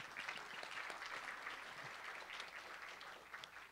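A round of applause from the audience at a community forum on medical marijuana, steady and sustained but somewhat distant and quiet, with no voices over it.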